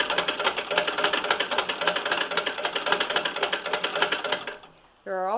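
A Howe (Stockwell) Model A bobbin winder spins thread onto a bobbin in a steady, rapid mechanical whir with fine ticking rattle, fading out near the end before a brief voice cuts in.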